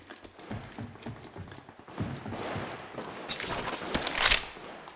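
Gunfire in Apex Legends Mobile rattles off in rapid bursts amid footsteps and thuds, building to a louder, brighter volley near the end.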